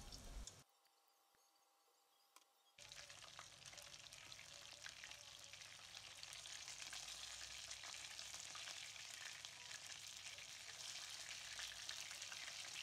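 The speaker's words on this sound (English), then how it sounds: "fry the fish into a hot oil on both sides until golden brown" Battered fish for crispy tacos fries in hot oil with a dense, bubbling crackle that bursts in after a brief quiet moment and keeps on strongly and evenly for several seconds, close up and with no voices.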